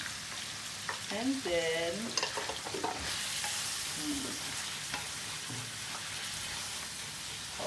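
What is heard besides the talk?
button and shiitake mushrooms frying in a pan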